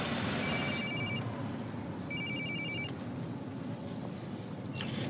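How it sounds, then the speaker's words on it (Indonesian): A mobile phone rings close by in two bursts of a bright electronic chime with a short pause between them, set over steady background hum with no speech. "HP-nya bunyi, bos."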